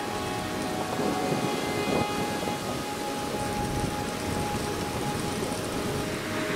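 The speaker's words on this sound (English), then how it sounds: "suddenly it just started raining" Steady, dense tropical rain in the Maldives pattering on surfaces as a storm arrives, a constant wash of noise with scattered drips, no voices.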